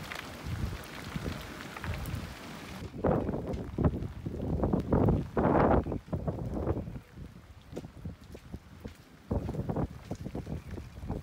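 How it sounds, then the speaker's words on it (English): Heavy rain and gusting wind during Typhoon Hagibis around a moored sailboat, a dense steady roar that swells loudly after a quieter opening and stays broad and close, with wind buffeting the microphone. "the rain is coming down in torrents"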